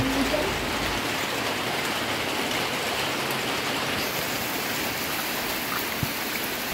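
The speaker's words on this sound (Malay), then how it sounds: "hujan lebat pun turun lagi sekali" Heavy rain pours down on a campsite with tents, a dense, steady hiss that stays even and unbroken throughout, with no voices.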